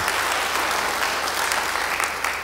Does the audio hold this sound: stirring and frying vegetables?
no